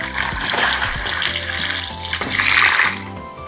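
Brine pours steadily into a container, a gurgling, splashing stream that rises in pitch as it fills, close up, with no talking.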